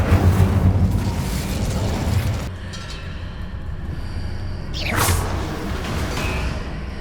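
An Incendio fire spell in Hogwarts Legacy lets out a loud rushing, roaring burst that swells and fades, followed by a whooshing sweep over steady background noise.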